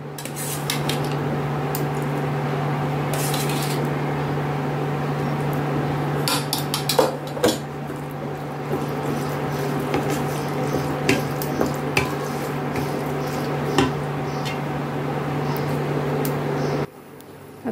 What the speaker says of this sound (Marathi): आता आपण काही करूया, ही शिजलेली डाळ आहे ना ती यामध्ये टाकून घेऊया